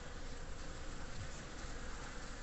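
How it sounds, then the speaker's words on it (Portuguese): Bees buzzing steadily around a flowering trumpet plant in late afternoon, a dense continuous drone of many insects close to the microphone with no talk. "mostrar para vocês a atividade das abelhas na trombeteira"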